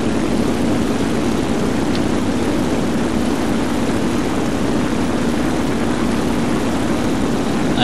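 Steady, loud propeller engine drone of a TBD torpedo bomber in flight in a video game, a continuous low hum holding level throughout with no speech.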